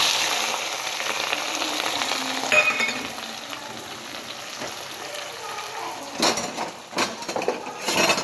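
Onions and chilies frying in a pan for aloo methi, a soft continuous sizzle with a few light metallic clinks of utensils near the end, close and fairly quiet.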